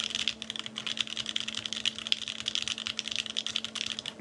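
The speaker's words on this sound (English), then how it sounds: "for me, this is a good clacky sound. It's like nice and sharp and very well pronounced." Fast typing on a Xeno mechanical keyboard with a POM plate and ABS keycaps, a dense run of sharp, clacky keystrokes close up, with no voices.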